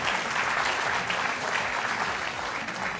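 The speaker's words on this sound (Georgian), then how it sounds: "შეიძლება ოდნავ აპლოდისმენტებით" Steady applause from a comedy show audience at a televised dance-competition event, dense clapping at a constant level for a few seconds with no one speaking over it.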